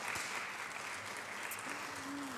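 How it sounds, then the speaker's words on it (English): An audience at the Miss East Georgia State College 2023 pageant claps in steady, sustained applause that fills the room throughout, with a voice faintly audible beneath it. "give yourself a round of applause"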